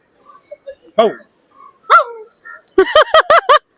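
A person imitates a dog, giving a few scattered yips and then a quick burst of four or five loud barks, close up.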